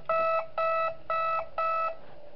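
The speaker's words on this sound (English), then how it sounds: "I'll use the alarm in case you leave." Alarm in the Five Nights at Wario's video game: four evenly spaced electronic beeps with a clear buzzing tone, each about a third of a second long, sounding alone against a quiet background.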